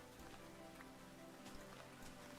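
Steady rain falls in the Minecraft video game, a modded downpour coming down sideways, heard as a continuous soft patter and hiss with scattered faint drop taps and no voices.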